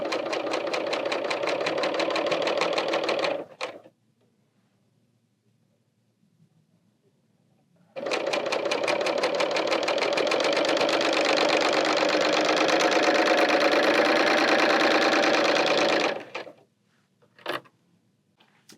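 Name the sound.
Bernina L890 serger sewing a t-shirt neckline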